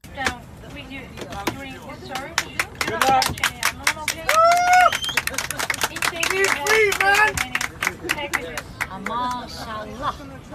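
Passengers aboard a flight clap as a deportee is led off the plane, scattered applause mixed with loud overlapping voices and shouts close by.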